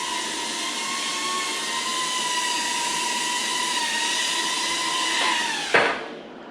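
A Potensic A30W Wifi FPV drone hums on landing, its propellers giving a steady high-pitched whine that winds down abruptly with a final thump as the motors cut off, close and loud.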